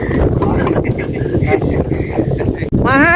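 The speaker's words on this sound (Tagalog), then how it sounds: "Mahangin, mahangin." Gusty wind on a farm plot in the Philippines buffets the microphone with rumbling noise while a person talks; a sharp break comes near the end, followed by another voice.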